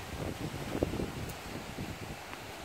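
Strong wind buffeting the microphone under storm clouds, a continuous rough low rumble with gusty surges across the whole clip.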